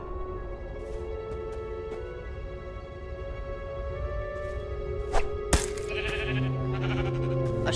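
A sheep bleats from Minecraft: Story Mode, a few short calls over steady game music and ambience, with some clicks and a sharp hit near the middle.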